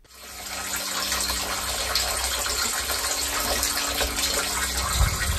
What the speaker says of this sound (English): That is the sound of rainwater filling up the barrel.